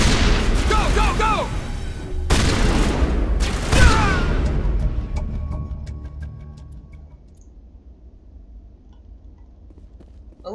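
Shotgun blasts in the video game Mass Effect, two loud booming bursts close together with battle clatter and game dialogue, then the noise fades into a quieter background.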